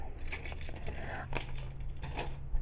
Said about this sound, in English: And these are my keys for school.